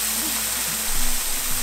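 Water sprays down like rain onto elephants at a zoo, a continuous close hiss with a brief low thump partway through.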